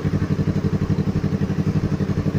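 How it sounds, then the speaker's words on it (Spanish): A customized Yamaha R3 motorcycle with a dual-outlet aftermarket exhaust idles steadily nearby, its low engine pulsing in an even, throbbing rhythm with no talk over it. "lo que es una Yamaha R3 personalizada y lo que es el sonido del tubo de escape"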